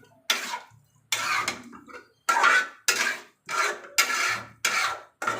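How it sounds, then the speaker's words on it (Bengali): Chicken bhuna is stirred in a pan with a spatula: seven or so loud, rhythmic scraping strokes against the metal, each a short rasping sweep, close up with brief pauses between. "এবার খুঁতি দিয়ে লাড়ি টেড়ে দিতে হবে"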